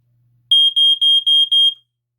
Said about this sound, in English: So you won't see the escape light, but you'll hear the alarm